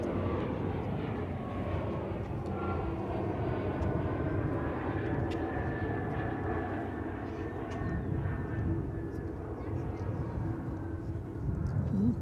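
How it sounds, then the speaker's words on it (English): An airliner rumbles at Dallas/Fort Worth Airport by runway 18 left, a steady, broad jet roar heard from a distance that holds for the whole stretch with no voices over it. "I think we're going to get to see this take off here on runway 18 left."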